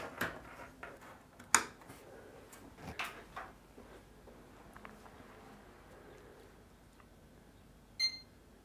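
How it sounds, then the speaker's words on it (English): A desktop PC gives a single short POST beep on startup, a brief high-pitched tone late in the recording after some faint handling clicks and knocks. "So again, we just got the one beep"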